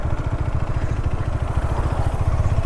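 A motorcycle idles close by with a loud, steady low putter of rapid, even engine pulses and no talking.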